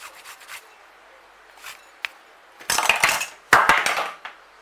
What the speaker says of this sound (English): Get a tiny little grater. Grate a bit on the top.